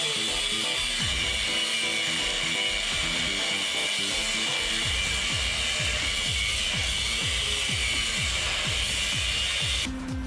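A power cutting tool grinds steadily through a section of metal ATV frame part close up, a continuous loud whine with repeated rhythmic pulses throughout, stopping abruptly near the end.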